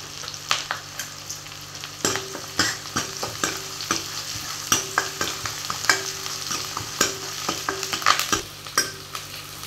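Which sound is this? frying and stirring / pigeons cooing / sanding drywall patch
frying and stirring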